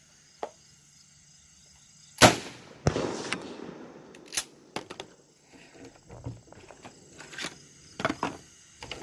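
A 12 gauge shotgun fires 3-inch Winchester 00 buckshot outdoors: one sharp, loud blast followed by a rolling echo, then scattered faint clicks and insect chirps.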